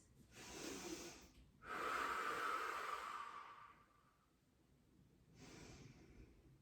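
Slow, deep breathing during a pregnancy yoga practice, with long audible inhales and exhales, close and fairly soft, three breaths separated by quiet pauses.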